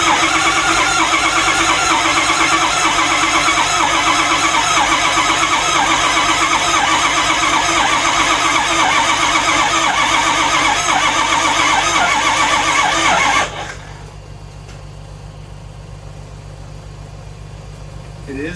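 An abandoned 6.0 Powerstroke diesel truck with a ZF6 transmission cranks loudly and continuously with a whining squeal for about thirteen seconds, then cuts off abruptly into near quiet.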